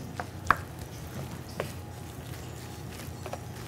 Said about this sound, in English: chopping up the marrow, getting it a little bit finer